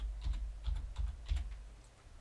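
Keystrokes on a computer keyboard entering a search for a free antivirus download, a few short bursts of close, crisp clicks with brief pauses between them, no voices.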